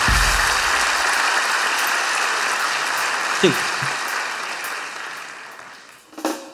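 Audience applause in a restaurant-set comedy sketch, a steady broadband clatter of clapping that holds for several seconds and then fades, with a brief spoken word and a thump near the end.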